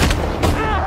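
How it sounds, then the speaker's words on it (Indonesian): Gunshots in a film's shootout, two sharp close blasts about half a second apart within a busy soundtrack. "Wilder kemudian membalas tembakan dan kemudian mengenai kaki Zeke."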